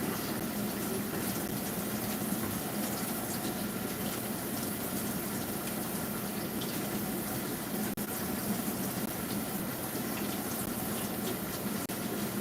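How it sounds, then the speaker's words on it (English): Steady running water from a tap as hands are rinsed underneath, a continuous close hiss and splash holding even for the whole stretch with no talking. "So let me rinse my hands."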